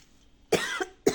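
Someone coughs after a puffed snack (phulla) lodged in the throat: three rough, close coughs, one sharp burst, a second right after, then another a moment later.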